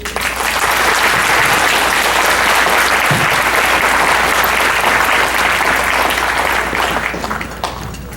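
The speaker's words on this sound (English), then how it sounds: "Can we give her another round of applause?" An audience at an annual fundraising gala applauds in a dense, sustained wash of clapping that holds steady and loud for several seconds before thinning slightly at the end.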